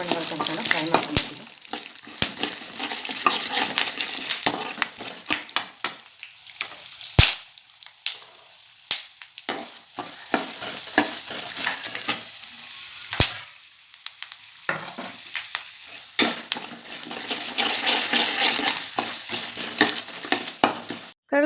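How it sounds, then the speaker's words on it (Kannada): Chana dal and peanuts fry in oil in a pan with a steady sizzle, broken by sharp clinks and scrapes of a spatula stirring, close up with no talking. "ಕಡಲೆಬೀಜ ಎಲ್ಲ ಕಂದು ಬಣ್ಣ ಬರೋ ತನಕ ಫ್ರೈ ಮಾಡ್ಕೊತಾ ಇದ್ದೀನಿ"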